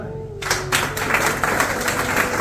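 Audience applause at an inspirational talk, a burst of clapping that starts abruptly and continues steadily, fairly loud and close, with a faint tone fading underneath at the start.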